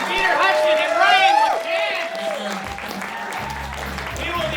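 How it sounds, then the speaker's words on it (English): A talk-show audience applauds two guests, clapping mixed with voices and cheers early on, then thinning out as a host talks over the fading crowd. "Big round of applause for Peter Hudson and Ryan"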